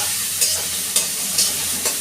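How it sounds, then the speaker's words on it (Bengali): Steady sizzle of tomatoes frying in a pan, with a few brief scraping stirs of a utensil at regular intervals. "এখন টমেটোটা ভাজা ভাজা হবে"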